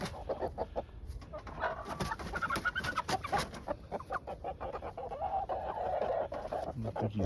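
Meat chickens cluck outdoors in the snow, a flock giving frequent short, close clucks and calls in irregular bursts over a soft background.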